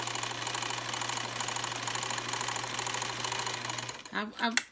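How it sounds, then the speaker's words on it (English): A vintage all-metal Bernina sewing machine runs steadily and close, a dense continuous mechanical whir with a low hum, stopping abruptly near the end as a voice speaks briefly. "Bernina, I love this machine."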